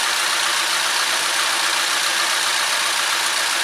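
Chevy ECOTEC GDI engine running steadily, a dense, even broadband mechanical noise with fast ticking texture, close and constant throughout with no talk.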